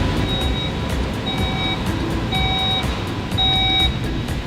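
Repeated electronic beeps from a 2018 Skoda Kodiaq as its boot is opened with the key, four evenly spaced tones over a steady background hum, with no talking.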